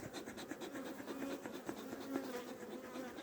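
Honey bees buzz steadily around a beehive in December, a dense, continuous droning hum close by with no voices.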